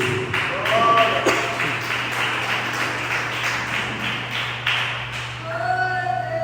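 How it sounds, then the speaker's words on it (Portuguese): A church congregation claps together in steady, lively applause that fills the room, fading off near the end while a voice begins speaking over a low hum. "bater a salva de palmas para Jesus Cristo."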